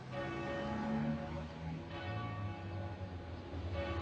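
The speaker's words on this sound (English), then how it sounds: "The bells of City Quay." Church bells of City Quay in Dublin ringing at a distance, several soft tonal strikes with lingering hum that fill the brief moment alone.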